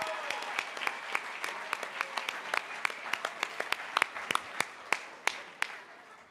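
Scattered applause at a Habitat for Humanity builders' gala, individual claps standing out sharply over a soft room murmur, steady and moderately distant.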